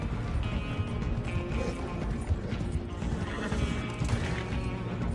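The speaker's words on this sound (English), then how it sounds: "Release them horses!" Horses neigh and hooves clip-clop in a Red Dead Redemption 2 game scene, the galloping a dense, steady rumble under a loud continuous wash of noise, with one whinny cutting through partway.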